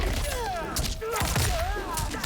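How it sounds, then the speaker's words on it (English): Kunai explode in Mortal Kombat 1 during a combo, giving a quick run of punchy blasts and thuds mixed with whooshing fight effects and game music, loud and close. "it's really fun trying to come up with different ways to make your kunais explode, just like that"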